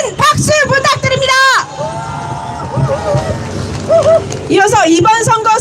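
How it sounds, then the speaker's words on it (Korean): A crowd at an election rally near a bus terminal in Cheongju cheers, whoops and shouts loudly, with bursts of voices rising and falling over steady applause-like noise. "큰 박수 부탁드립니다"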